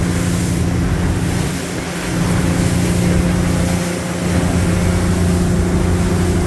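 Motorboat cruising across the open ocean at about 21 miles an hour off Islamorada, with a loud steady engine drone and rushing water and wind noise, the hull thumping softly on swells twice.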